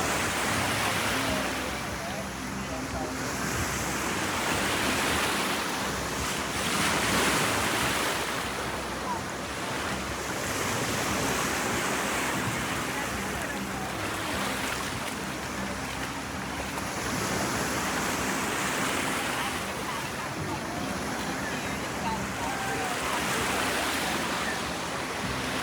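Ocean surf rolling onto a beach on a fine day, a continuous loud wash of breaking waves swelling and easing, with wind buffeting the microphone throughout.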